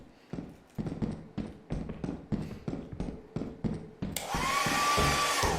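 A hair dryer switches on and runs with a loud, steady whooshing roar for the last second and a half, after a stretch of rhythmic thumping.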